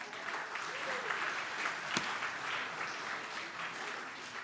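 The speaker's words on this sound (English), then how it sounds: "Can we have a round of applause for Henry?" A church congregation claps in a sustained round of applause, dense and even throughout, with one sharp louder clap partway through.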